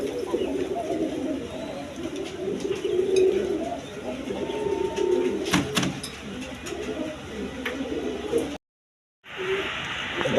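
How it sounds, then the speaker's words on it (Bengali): Big-size Rajgolla pigeons coo in low, murmuring bursts with bird calls scattered throughout, close by and steady, interrupted by a brief silent gap near the end. "দেখেন একদম বিগ সাইজের কবুতর"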